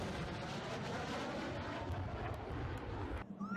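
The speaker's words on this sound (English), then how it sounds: "So this is an F-18 sonic boom." Low, broad rumble of an F-18 jet's sonic boom played back from a recording, a sustained roaring wash that cuts off abruptly near the end.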